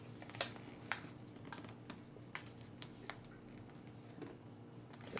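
Paper being folded and creased for a paper airplane: a run of short, crisp rustles and taps, fairly close and quiet, spread irregularly through the clip with no voices.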